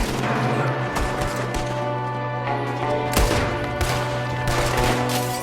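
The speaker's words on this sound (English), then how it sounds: "There's another one shooting from the window." Rapid volleys of gunfire from a Red Dead Redemption 2 shootout, loud overlapping shots and crashing impacts over a steady low in-game hum, with sharp bursts clustering near the middle and end.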